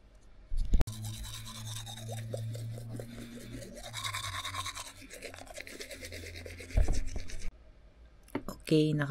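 Toothbrush scrubbing against teeth, a steady rasping brush with a few sharp knocks and clatters, close and fairly loud, alongside running water and bathroom handling noise.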